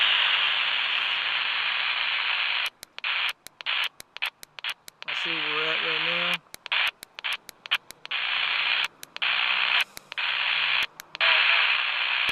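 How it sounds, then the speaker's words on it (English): CB radio noise picked up out near Oak Ridge, Tennessee: a constant loud hiss of static broken by sharp cutouts and crackling bursts, with someone talking briefly over it. "Got all these RF noises."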